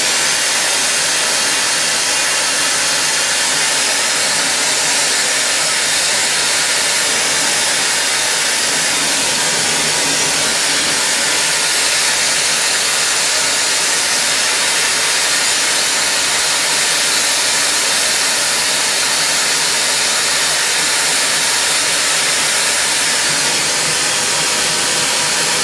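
A torch on a glass lathe heats glass tubing for a goblet, producing a loud, constant roaring hiss that continues unbroken from start to finish.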